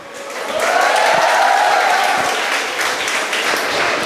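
An audience at a pre-university college graduation day in Mangalore breaks into applause. The dense clapping swells quickly and stays full and sustained, loud and close, with only faint voices underneath.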